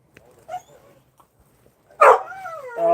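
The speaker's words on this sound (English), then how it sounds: "is that why you're barking and yapping?" A dog gives a few soft, distant yips. Then a loud, close bark erupts and stretches into a drawn-out yapping howl.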